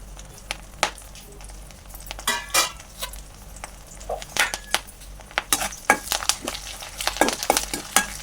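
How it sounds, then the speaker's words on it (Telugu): Cumin, garlic, dried chilli and curry leaves frying in hot oil, crackling with scattered sharp pops and occasional stirring clinks against the pan, steady and close, with no talking. "పోపు కొంచెం వేగేదాకా వేయించుకోండి"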